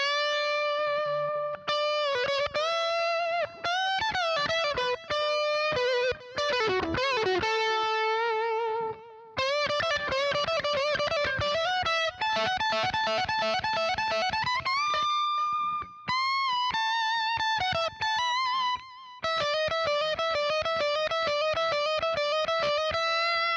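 Electric guitar solo through a Boss DS-1 distortion and Boss ME-90 delay on a song: a long, sustained, bending melodic line with subtle ambient repeats trailing behind, loud and continuous without talk.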